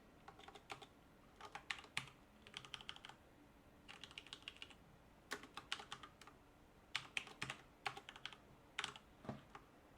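Someone types code on a computer keyboard in quick bursts of soft clicking keystrokes with short pauses between, quiet and fairly close.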